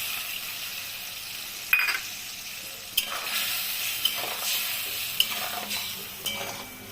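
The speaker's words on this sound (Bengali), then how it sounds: "মশলাটা কষানো হয়ে আসছে এখন আমি মশলাটা তেল ছেড়ে দিয়েছি" Spice paste fries in oil in a pan for a katla fish curry with potato and cauliflower, hissing steadily while a spoon stirs it with periodic scraping knocks against the pan.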